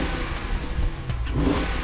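A big hemispherical-head car engine mated to an eight-speed TorqueFlite automatic revs up briefly, a deep throaty rumble that swells and dips in quick bursts close by.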